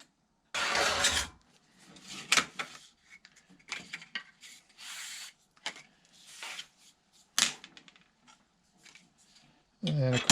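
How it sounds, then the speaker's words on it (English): A hard tip scratches a groove into Formica laminate on a carbon fiber landing gear mold, making short bursts of close, dry rasping strokes separated by pauses. "All you're doing is scratching a groove in the Formica."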